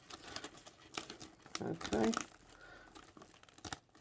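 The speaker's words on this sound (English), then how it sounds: "I've put 3 layers of buckram. So it's extremely hard to cut" Scissors working through three stiff layers of buckram while enlarging a hat block, giving crinkly rasping snips and crunches in uneven bursts, close up, with a brief spoken word.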